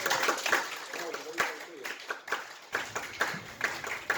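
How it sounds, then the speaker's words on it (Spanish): A crowd at a community celebration in New York claps and applauds, producing a string of sharp, irregular hand claps of moderate loudness that come in bursts for the whole stretch. "a nuestro compañero Carlos Tello, a cual pido palmas apristas, compañero."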